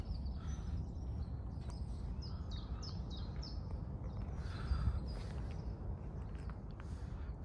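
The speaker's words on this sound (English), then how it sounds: "The birds are twittering." Faint, repeated high chirps of small birds twittering over a steady low outdoor rumble and a few footsteps.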